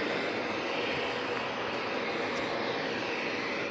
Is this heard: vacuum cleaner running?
yes